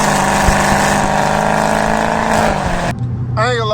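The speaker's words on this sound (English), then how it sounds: "I think I'm gonna drift this corner" A catless Dodge Hellcat on bald tires drifts around a corner, its loud, close engine droning hard before the note suddenly drops away, followed by a short rising, wavering whine.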